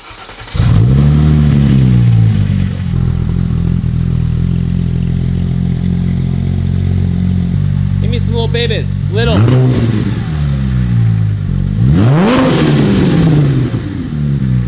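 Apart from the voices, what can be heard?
Porsche 997.2 GT3 engine revving after warm-up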